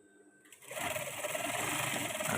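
A sewing machine stitches the side seam of a men's batik shirt, quiet at first and then running steadily and loudly close by for about two seconds.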